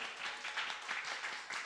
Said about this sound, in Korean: 크게 박수로 환영할까요?